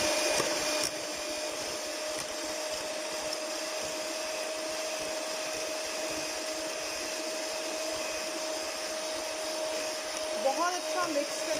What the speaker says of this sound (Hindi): इसको मैं ब्लेंड करूंगी, और अच्छी तरह ब्लेंड करूंगी।